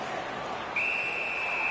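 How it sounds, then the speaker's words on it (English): A referee's whistle during a hockey game between the Hawks and Origins gives one sharp, sustained blast about halfway in, cutting through a steady arena crowd murmur. "A whistle and a rest"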